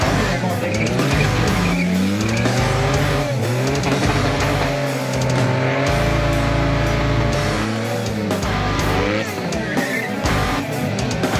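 Burnout competition car nicknamed the Millennium Falcon spinning its tires on a concrete pad, engine held at high, wavering revs with continuous tire squeal, loud and close throughout.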